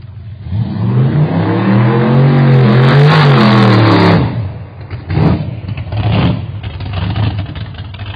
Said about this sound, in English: Yeah, Jay, here's this truck just pulled up out of the clear blue sky.